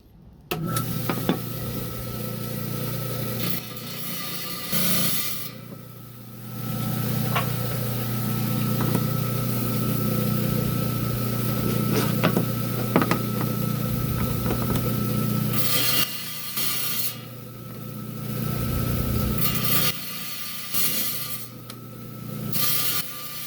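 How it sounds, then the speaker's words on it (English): A 10-inch trim saw cuts through a piece of brown onyx, a steady motor hum and grinding whine near at hand that dips briefly in a few spots as the cut pauses and resumes. "we're down here on my 10-inch high-tech trim saw. We got the piece of onyx here, so I'm going to trim that out."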